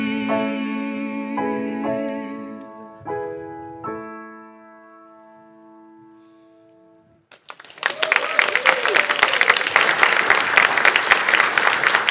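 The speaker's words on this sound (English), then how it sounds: "I told y'all you'd be clapping a lot today." A church congregation breaks into loud, dense clapping after sustained organ or keyboard chords die away, with the applause continuing steadily until the end.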